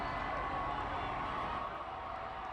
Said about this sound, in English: An excited crowd, a well-behaved crowd.